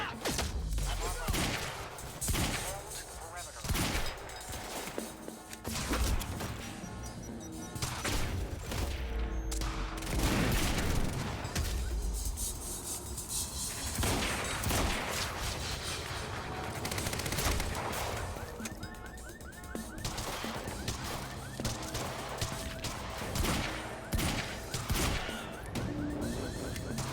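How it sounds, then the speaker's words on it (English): Sustained gunfire in a firefight in the video game Quantum Break, dense bursts and automatic fire crashing continuously at loud level, with voices shouting over the battle. "Don't stop firing!"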